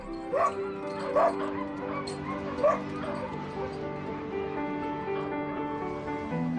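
Several dogs yip, bark and whimper near a polar bear in the Arctic. Sharp barks stand out over a steady background of whining, moderately distant.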